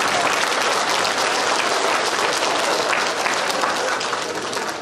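Loud, dense applause from a large crowd at a school awards ceremony, sustained for several seconds and tapering slightly toward the end.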